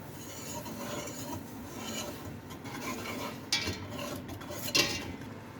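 A spoon stirs beurre manié into a reduced veal broth for an old-style blanquette de veau, giving soft steady scraping and rubbing against the pan with two sharper metallic clinks near the end, quiet and close, no voices.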